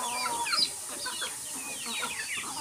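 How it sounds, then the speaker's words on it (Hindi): A hen and her chick make soft clucks and thin high peeps in a yard with pigeons nearby, a close, irregular chatter of short calls lasting a few seconds. "मुर्गी और मुर्गी का बच्चे इधर आ चुका है"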